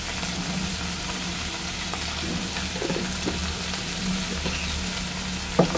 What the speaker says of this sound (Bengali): একটু হলুদ দিয়ে নাড়াচাড়া করবো।